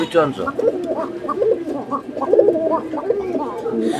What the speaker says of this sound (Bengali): কোকা কবুতর তো অনেক ভীতু ভাই, ডাকে তো প্রচুরই।